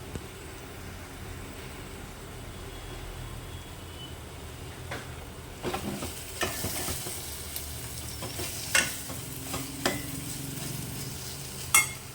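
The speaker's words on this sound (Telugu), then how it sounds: "ఇప్పుడు ఇట్లా ఏగినప్పుడు కూడా నూనె తేలాలి" Masala fries in oil for a restaurant-style jackfruit seed kurma, a soft continuous sizzle that grows busier with stirring, with occasional louder scraping clinks of a spoon against the pan.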